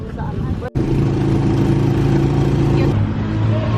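A motorcycle tricycle engine drones loudly and close throughout, with a brief cutout early on, then a steady running hum that shifts pitch near the end, with street ambience around it.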